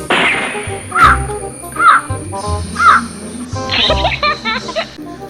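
A crow caws three times at regular intervals, loud and close, followed by a jumble of other calls and rustling.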